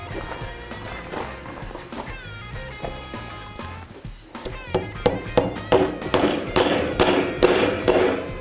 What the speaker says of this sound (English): I'm just hammering the hog panel to the inside of the board.